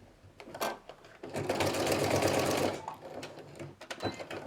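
Sewing machine running a basting stitch on plush fabric, a short burst of fast whirring stitching in the middle, bracketed by faint clicks and handling sounds close by.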